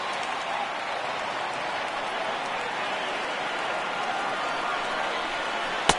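A sustained roar from a baseball stadium crowd of over 39,000 on their feet at an Angels–A's Opening Day game, dense and steady throughout with a brief sharp peak near the end.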